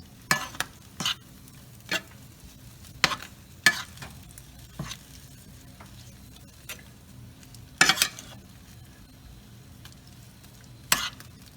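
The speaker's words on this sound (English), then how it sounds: "we're going to toss the shrimp until it's all coated, moving it back on top of the burner so that we can mix it in the sauce" Shrimp tossed in a pan of Cajun sauce over a burner, with a low continuous sizzle broken by repeated sharp stirring scrapes and clatters at an irregular pace, close and fairly loud.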